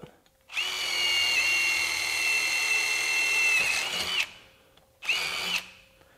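A Spyder Mach Blue Stinger 5/16 drill bit bores through aluminum with a loud, high whine for several seconds, then stops and restarts for a short second burst, close up.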